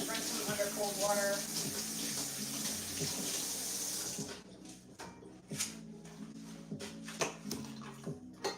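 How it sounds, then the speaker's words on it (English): Cold tap water runs steadily over onions being rinsed in a kitchen sink, a close hiss that cuts off midway, followed by scattered clatters and handling noises. "For a quick reprieve, I just rinse them under cold water."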